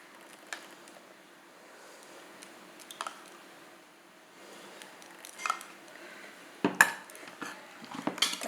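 Curd pachadi being mixed with salt in a bowl, soft squishy stirring broken by occasional spoon clinks against the bowl, growing louder with sharper scrapes toward the end.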